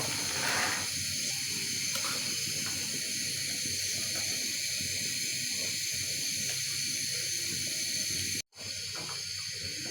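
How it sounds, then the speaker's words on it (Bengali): Peas tipped into a pot of vegetable khichuri set off a steady, fairly loud hiss of steam and sizzling that runs throughout, briefly cutting out near the end, with no voices. "এখন আমি মটরশুঁটিটা দিয়ে দেব"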